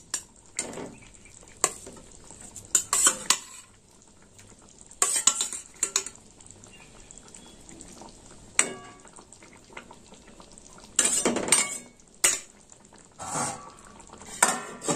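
Pointed gourd (potol) cooks in a pan of mustard sauce under a low sizzle, interrupted by repeated scraping strokes of a utensil stirring against the metal at irregular intervals.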